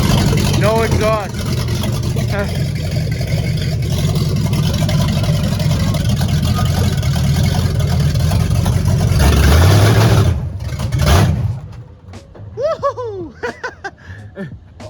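A 1966 Oldsmobile Cutlass with a built 425 engine runs with no exhaust fitted, a loud, raw, continuous roar that cuts off near the end, followed by a voice speaking.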